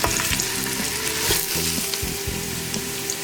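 Aromatic vegetables with seasonings and fresh cracked pepper frying in a pan for tomato sauce, a close busy sizzle broken by clinks and scrapes of stirring, with no talk.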